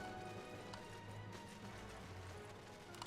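A fancy horse mount in Final Fantasy XIV trots with a steady clip-clop of hooves, faint and even, over a low game background hum.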